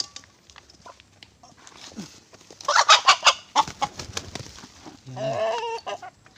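Native chickens clucking nearby on a farm, a burst of rapid clucks in the middle and a drawn-out call near the end over faint background noise.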